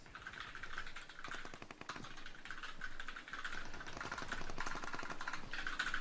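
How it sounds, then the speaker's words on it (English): Rapid computer keyboard typing, dense irregular clicks that run steadily for the whole stretch, close and moderately loud over a faint game background. "Metalcore typing away"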